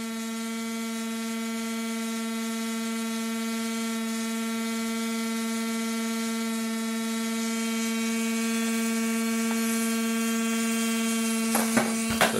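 Bedini SSG recovery motor, a small pulse motor drawing about 100 watts, spinning at roughly 13,000 RPM: a steady, close electric whine with a strong tonal hum that holds even and continuous, rising slightly near the end with a few brief clicks.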